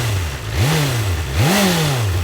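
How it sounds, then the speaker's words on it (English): BMW M1000R motorcycle engine given two short, light throttle blips at close range, each rev climbing quickly and falling back to a loud, steady idle. "let's do some baby revs."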